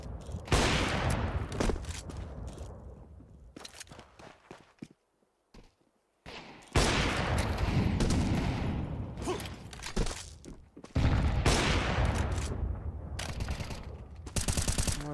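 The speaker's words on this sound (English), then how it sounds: "Those pistols won't get too much in this follow-up round either" Pistol gunfire during a Counter-Strike match, bursts of sharp shots and clattering separated by a short quiet gap, loud and close with no speech.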